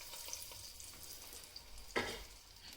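Masala urandai vada balls frying in hot oil give a faint, steady sizzle, with a single brief, louder splash-like crackle as one more ball drops in.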